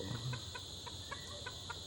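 Short, evenly spaced clucks repeat about every quarter second from a nearby wild red junglefowl, over a steady high insect drone.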